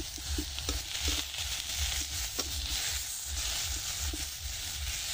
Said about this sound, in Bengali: কম তেলে হচ্ছে গিয়ে বেগুন ভাজি করতেছি